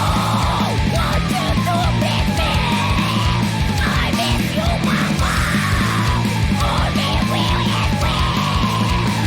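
Screaming in a music track: harsh yelled vocals laid over dense, loud, driving instrumentation, with strained shouts rising and falling throughout and no spoken voices.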